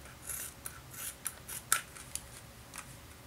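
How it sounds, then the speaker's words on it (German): Scissors snipping through foam rubber and Worbla thermoplastic sheet, a series of short, crisp cuts spaced unevenly over a few seconds, close up and fairly quiet, with no one speaking. "Dann könnt ihr ganz einfach mit der Schere mit einem wenig Abstand"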